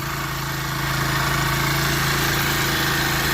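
A 2023 Honda XR150L motorcycle engine runs at a fast steady idle after a carburettor adjustment, with a dense, close mechanical drone and a slight rise in level partway through.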